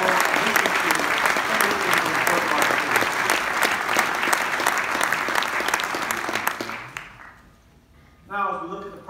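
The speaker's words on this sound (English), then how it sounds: "Let's give Steve and the rest of the delegation a round of applause." An audience at a mayor's State of the City address applauds a delegation with a loud, dense round of clapping that fades out after about seven seconds, followed by a brief voice.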